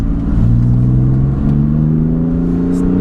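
A BMW M3 F80 engine pulls hard on a mountain road, its loud, close drone climbing steadily in pitch as the car accelerates, with no talk over it.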